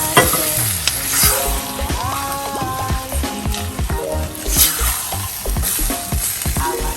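Vegetables are stirred in a pan with coconut milk, a steady sizzle broken by repeated scraping and clattering strokes of a spoon against the pan, close and fairly loud.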